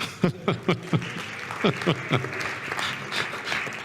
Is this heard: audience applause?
yes